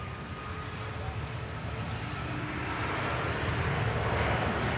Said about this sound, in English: catch the Virgin Atlantic flight to Atlanta